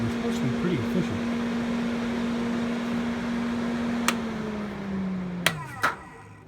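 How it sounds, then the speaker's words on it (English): Roof fans in a 1976 Alaskan camper run with a steady, close mechanical hum that winds down in pitch near the end, marked by a few sharp knocks. "They are fantastic fans."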